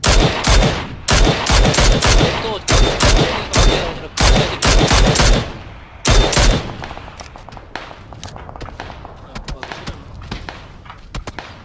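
Rapid bursts of gunfire in the battle royale game PUBG: Battlegrounds, loud and close, coming in repeated volleys for about six seconds before thinning to scattered, fainter shots.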